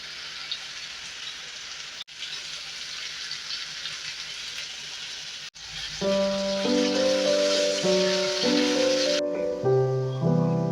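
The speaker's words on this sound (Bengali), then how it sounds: "এবার আলুটা ভেজে নেব" Steady, hissing sizzle of salted, turmeric-coated potatoes frying in hot oil, loud and continuous, later joined by a sustained musical tone in the background.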